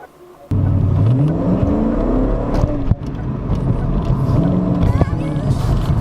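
A Ford Mustang GT 2V with an Airaid cold air intake starts up and drives off, its engine note rising and falling through gear changes, steady and loud from start to finish with no talk.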